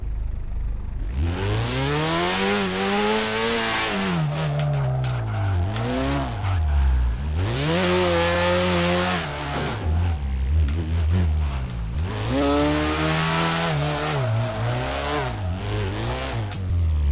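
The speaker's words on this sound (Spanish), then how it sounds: "¿Me sigue tapando el motor del coche" A car engine revs in the drift video game DriftCE. The loud, close revving rises and falls in repeated sweeping cycles, with tire noise mixed in and no talking.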